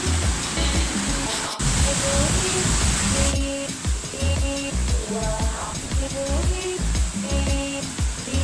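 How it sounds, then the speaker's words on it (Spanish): Roaring, continuous rush of the Sogay waterfall in Yarabamba, heard up close as a broad wash of falling water, with people talking and other sounds layered over it. "Al pie de la cascada de la catarata, esto es maravilloso,"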